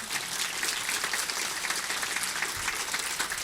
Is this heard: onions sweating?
no